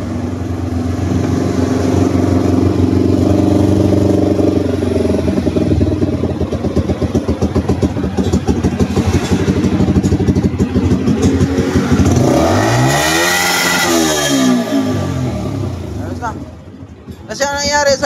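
A motorcycle engine running and revving hard at close range, a loud sustained roar with a pitch sweep near the end before it cuts out, with people talking over it.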